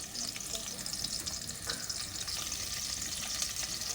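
Onions fry in a pan in a faint, steady hiss of bubbling oil with a few soft stirring sounds and no talking.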